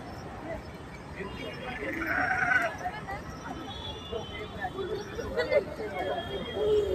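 A goat left on its own bleats a few times on a farm in Badlapur, amid outdoor background noise and murmuring voices, the calls moderately loud and fairly close.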